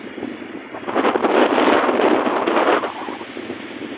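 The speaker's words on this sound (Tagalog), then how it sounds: "napapalakas talaga yung hangin dito at yung hangin" Strong wind roars across the microphone in Ilocos Norte in a steady broadband rush, swelling louder through the middle before easing off, with no voices.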